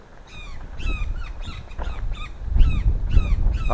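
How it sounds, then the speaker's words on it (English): A loud bird in the Yucatan jungle near Tulum, Mexico repeatedly calls with harsh, cawing cries in an irregular series, close by over a low rumbling outdoor background. "Some bird is creating a lot of noise right here."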